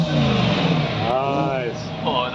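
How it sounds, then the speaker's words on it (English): A car engine revs loud and close, a rising and falling roar with shifting pitch, while people talk and react over it. "One last rev?"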